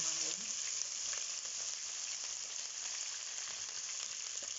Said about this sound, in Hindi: हम जस्ट इसको जो है 20 सेकंड के लिए और फ्राई करेंगे और साथ ही अब हम इसमें हरी मिर्ची ऐड कर देंगे।